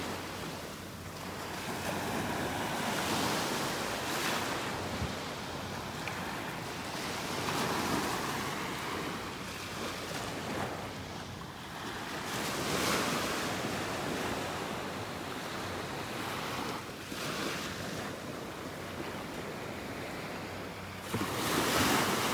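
Small ocean waves break on a beach shore on a sunny morning in North Naples, Florida, a continuous surf wash rising and falling in gentle surges, with some wind noise and no talk.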